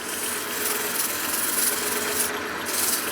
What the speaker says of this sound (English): Now I'm going to start with the sandpaper before I go any narrower on that. I've got 60 grit.